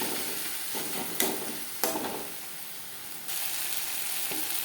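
Spice paste with green chilli frying alongside onion and tomato for a bata fish curry, a steady close sizzle broken by a few sharp clatters of stirring and a brighter hiss near the end.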